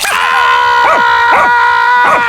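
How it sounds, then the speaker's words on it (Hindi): A cartoon dog barks and yips in a loud series of short cries over a steady, sustained musical tone, with about four separated bursts. "जो कुत्ता है यहाँ पे तो कुत्ता है"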